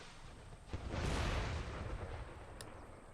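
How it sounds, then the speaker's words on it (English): Cannon artillery fire in the Empire: Total War video game, a deep muffled boom swelling into a sustained rumble with a faint crackle, distant and low in level. "These guys are taking a shit kicking just from being cannoned."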